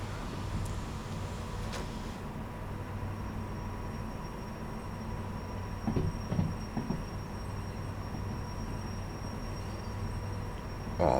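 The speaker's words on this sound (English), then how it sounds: "Obviously with the length of the train it takes a while for brake to get on." A long train in the Derail Valley simulator rumbles as its brakes are applied and it slows toward a stop, a low continuous drone with a faint steady whine and brief clunks midway; no speech.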